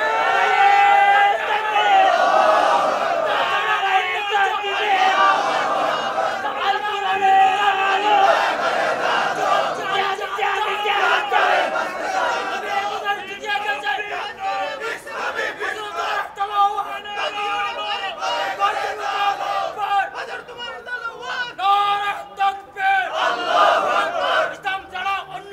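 Crowd at a Bangla Islamic waz religious gathering chanting slogans in loud, sustained unison, rising and falling in rhythmic bursts throughout, with a voice leading over the mass of voices.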